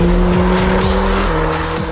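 A 2014 Porsche 911 Turbo S (991) cruising at highway speed, its loud, steady engine drone shifting pitch through a couple of gear changes over constant road and tire roar, with no talking.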